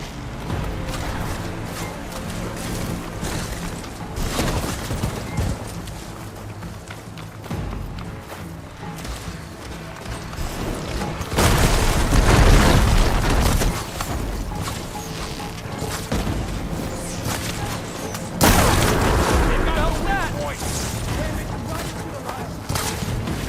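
Weapon fire and explosions in Horizon Forbidden West, with loud bursts and heavy booms swelling twice over a steady clatter of combat noise, while voices call out in between.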